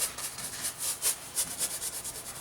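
A 1-inch angled house painter's brush strokes paint onto canvas, giving a run of soft, close, rhythmic scrubbing swishes that repeat steadily, with no talking.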